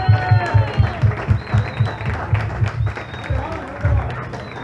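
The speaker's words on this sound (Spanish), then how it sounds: "dar un aplauso, ahí está" Sparse clapping at a small concert venue in Vigo comes in uneven bursts beneath voices talking, with a rhythmic low thumping throughout and the crowd sounding close.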